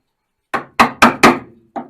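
Five sharp hammer blows strike metal on a VW Beetle trunk, four in quick succession followed by a pause and a lighter final hit, close and loud with a short ringing decay.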